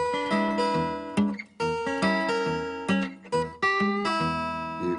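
Fingerpicked guitar plays a diminished-chord lead line over a steady rhythm, with bright plucked notes and a ringing bass in a clear close-up solo with no talking.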